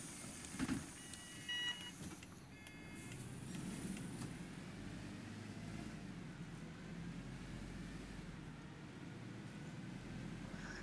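A London-spec Streetlite bus being driven in the OMSI 2 simulator rumbles with a steady low engine drone throughout, with a few brief higher clicks and tones near the start and no talking.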